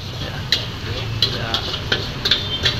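Javanese fried rice being stirred and fried in a wok over charcoal at a busy night food stall: steady loud sizzling, with sharp metallic spatula scrapes and clanks every half second or so.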